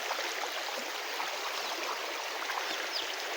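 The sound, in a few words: flood water flowing through a garden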